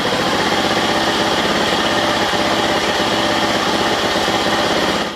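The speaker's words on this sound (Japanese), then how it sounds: "スターターロープを1回引っ張っただけでエンジンがかかりましたね" A Honda 2 hp outboard engine, fitted with a replacement carburetor, fires on a single pull of the starter rope and runs loud and close with a fast, steady, buzzing idle throughout.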